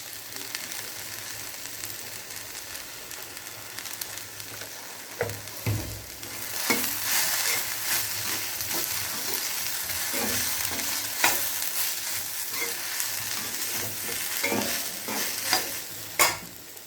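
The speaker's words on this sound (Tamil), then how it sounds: "இதோ நல்லா மிளகாத்தூள் போட்டு உப்பு போட்டு எல்லாம் போட்டு வதக்கியாச்சு" Okra is sautéed in a pan with chili powder and salt, giving a constant close sizzle with repeated scraping stirs of a spoon against the pan. No talking.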